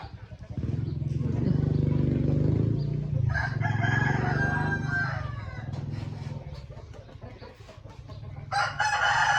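A rooster crows loudly nearby and chickens cluck, heard over a running engine drone and people talking.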